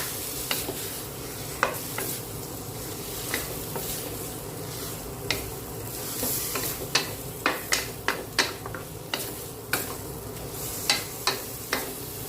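Cucumber and egg stir-fry with a splash of water in a pan gives a steady sizzle under repeated sharp spatula scrapes and taps on the metal, coming every second or so.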